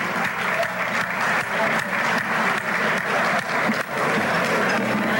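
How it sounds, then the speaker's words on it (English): An event audience gives a big round of applause, loud sustained clapping from a large crowd that continues evenly throughout. "So would you please just start out by giving yourselves a big hand, a big round of applause."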